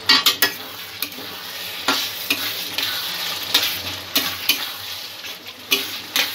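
Vegetable korma with potatoes, carrots, masala and slit green chillies is stirred in a hot pan. A spoon scrapes the pan in repeated strokes over a steady sizzle, close and clear, with no talk.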